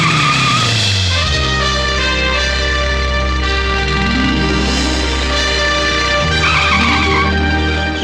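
A vehicle turns and skids with a loud, sustained tire squeal over a revving engine, the pitch sliding as it corners, close and continuous throughout.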